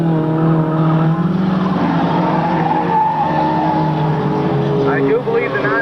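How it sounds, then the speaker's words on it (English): A race car slides sideways on the backstretch of a dirt oval and runs into the infield, engine roar and tire scrub sustained and loud, with a race announcer talking over it throughout. "91, Louis Keller gets sideways over on the backstretch and is into the infield."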